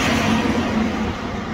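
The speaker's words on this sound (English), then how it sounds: "Bloody trucks, you know, bane of my existence this whole trip." Heavy trucks on a road near an African border crossing, a loud continuous low engine rumble and tyre roar that stays close and steady, easing slightly toward the end, with no voices.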